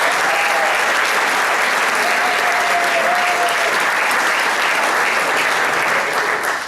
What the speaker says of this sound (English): let's have another round of applause for them as well